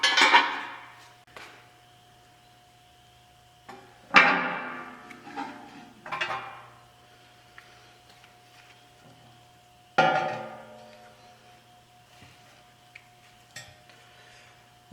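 A metal oil pan is handled and set in place for a trial fit, making several sharp metallic clanks and rattles at irregular intervals over a low steady hum, with quiet pauses between.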